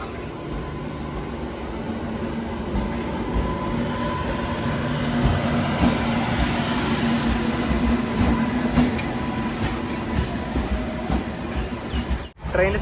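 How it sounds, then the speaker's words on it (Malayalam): A train runs along a single-line railway near Kuttalam station on the Tiruchirappalli–Mayiladuthurai route, producing a steady, close rumble with rhythmic wheel clatter and a sharp break shortly before the end. "തിരുച്ചിറപ്പള്ളിയിൽ നിന്ന് മയിലാടുതുറയിലേക്കുള്ള ഒരു ട്രെയിൻ ഇപ്പം ഇതുവഴി കടന്നു വരും"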